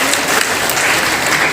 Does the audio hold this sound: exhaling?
no